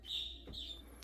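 Faint, brief high chirps from a pet parrot, two short tonal calls in a quiet room.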